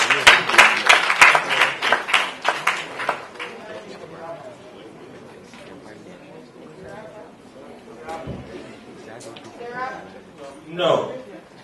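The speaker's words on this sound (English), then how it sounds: "A round of applause for Augustin." An audience applauds at a television awards ceremony as a comedian is welcomed to the stage, with dense, loud clapping at first that thins out into scattered claps and crowd chatter.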